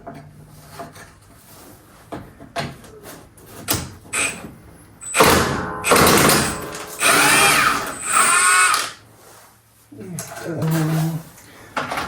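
Milwaukee power tool whirring in a few bursts while working on a semi truck mud flap clamped in a vise, mixed with clanks and scraping of parts, close by, with a voice talking between runs.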